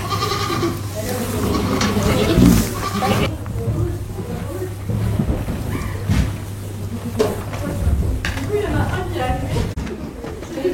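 Goats bleating in a meadow beside a goat farm in Brittany, a few metres away, with several calls rising over a steady low hum and background talk throughout.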